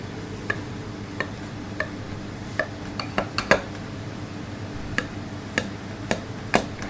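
Knife and server clink against a dish while a slice of homemade beef and ale pie is cut and lifted, a string of sharp, scattered metallic taps over quiet room tone, with no talking.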